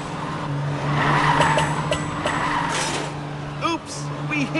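A race car drives and skids in a PJ Masks racing game, a steady engine hum running throughout with brief tire squeals near the end, under upbeat game music and effects.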